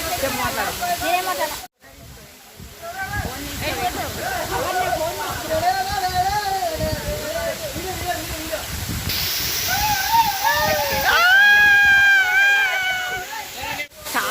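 Katika waterfall roars with a loud, steady rush of falling water that fills the whole scene, while people talk nearby over the noise.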